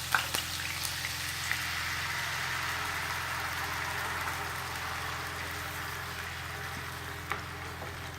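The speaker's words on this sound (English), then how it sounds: "I'll allow this cook for 30 seconds, 1 minute, just so the onions can mix in with the oil." Onions frying in hot oil for gizdodo, a steady close hiss and crackle that holds evenly throughout with a few faint pops and no talking.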